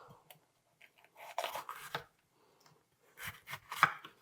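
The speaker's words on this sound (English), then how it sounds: "I'm just going to slice off the ends, cut this into strips" Knife slicing a bell pepper into strips on a board for a pizza, a handful of crisp close cuts and soft thuds in short bursts separated by quiet pauses.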